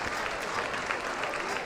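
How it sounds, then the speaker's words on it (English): Crowd applauding at an ice hockey Canal Cup game for the Bourne Canalmen, steady dense clapping throughout the rink with an announcer's voice over it. "There's the first off round of applause for the Bourne Canalmen."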